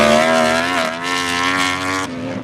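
A motorcycle engine at full throttle on a race track corner exit, a loud close howl that climbs in pitch as it accelerates, dips briefly at a shift, then cuts off abruptly at the end.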